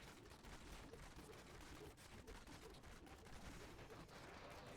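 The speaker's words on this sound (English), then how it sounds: "this is terrible because the explosions are everywhere" Explosions from the Diablo 3 video game rapidly overlap as dense, crackling bursts. The barrage runs continuously at low volume.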